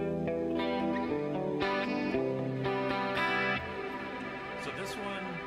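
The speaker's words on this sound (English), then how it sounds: "and then a really heavy echo, cave echo, or reverb." Distorted electric guitar played through an effects preamp set to a heavy cave-like echo and reverb, sustained chords washing and trailing off, loud and close with no talking.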